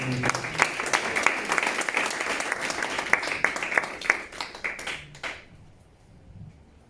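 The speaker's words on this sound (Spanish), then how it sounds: "Dale un fuerte aplauso a Dios, Señor." Church congregation applauding to God during a service, sustained dense clapping for about five seconds that dies away quickly into quiet room tone.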